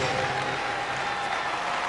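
A vast stadium crowd of around 80,000 at the 2006 Melbourne Commonwealth Games opening ceremony applauds athletes, a dense, continuous wash of clapping heard at a distance.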